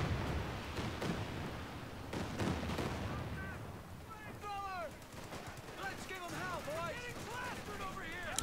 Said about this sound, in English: Big Calliope barrage.